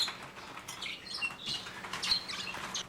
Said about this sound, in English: this is our cream, hopefully blue-edged Bourke parakeet.